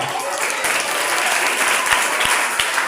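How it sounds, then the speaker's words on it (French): Audience at a school contest final applauding student dancers, a loud, dense burst of clapping with a few heavy thumps underneath. "je vous demande encore de les applaudir"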